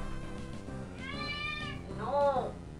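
A real cat meowing, two drawn-out wavering meows, the second louder and rising, heard close by over background game music.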